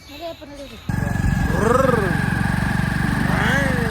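A running tractor engine sets in after a brief stretch of voices, then holds a steady, close, rumbling drone with a fast rhythmic pulse, rising slightly in pitch and intensity while a voice continues over it.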